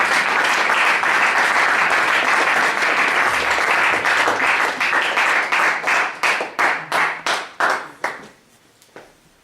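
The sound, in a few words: congregation applause acclaiming God the Father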